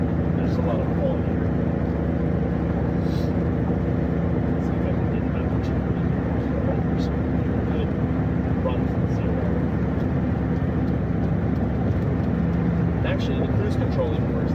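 Inside a 1987 BMW 325is cruising at about 3,300 RPM and 75 to 80 mph, a steady, loud engine drone and road roar fill the cabin, with a voice talking over it at times.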